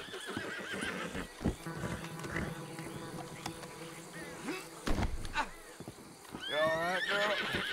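A horse in Red Dead Redemption 2 neighs in several whinnying bursts over scattered hoof clops and buzzing ambience, with someone talking in between.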